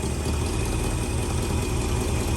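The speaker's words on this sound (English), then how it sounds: "We're gonna put it in gear and see how it idles down" 1967 Ford Mustang engine idling in gear under load, heard as a steady, close, low rumble with an even chugging texture and no talk.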